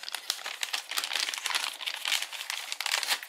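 Sheets of white paper crinkled and crushed by hand in a quiet room, a dense run of crisp rustling crackles lasting a few seconds, close and steady with no voices.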